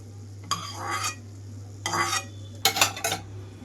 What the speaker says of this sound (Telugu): ఆయిల్ అంతా కాగినప్పుడు ధనియాలు వేసేసుకుంటున్నాను.